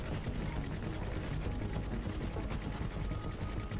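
Sustained rapid automatic gunfire from a weapon in The Finals, a dense continuous rattle of shots held at steady loudness throughout without pause.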